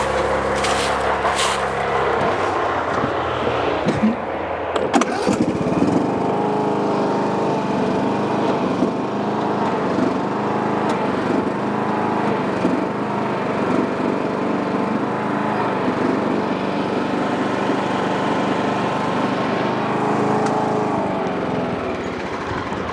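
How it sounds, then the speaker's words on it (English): Steady background engine drone from a neighbor's tree chipper running while trees are cut, a continuous broadband mechanical roar with a brief louder clatter near the start, no talking. "my neighbors that are getting trees cut, they're running their chipper now, so that's the noise in the background."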